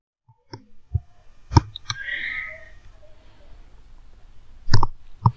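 A computer mouse clicks to roll out an Android app release on Google Play: about six sharp, close clicks spaced unevenly over several seconds, with a brief soft tone between them and long quiet gaps.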